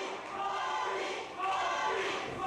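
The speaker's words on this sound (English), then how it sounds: "Now the crowd chanting Bobby." A wrestling crowd at a Bobby Shields versus Scotty Gash match chants in unison, a loud, dense wall of voices that swells, dips briefly, then surges again.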